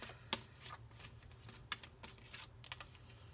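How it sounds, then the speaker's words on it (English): Cards are shuffled quietly, with soft riffling and a couple of sharper snaps, faint and close with no talking. "I don't feel like that was a good shuffle"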